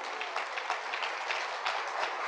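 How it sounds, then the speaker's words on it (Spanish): A church congregation claps for the Lord, a dense steady patter of many hands filling the room evenly, moderately loud and without speech. "Dele palmas al Señor de la gloria."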